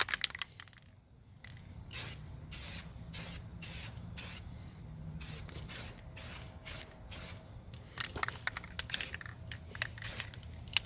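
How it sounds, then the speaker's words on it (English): An aerosol can sprays a thin first coat of primer onto a BMW E46 330Ci brake caliper, repeated short hissing bursts in quick rhythmic succession, close and fairly loud. "So now I'm going to start with the first coat of primer."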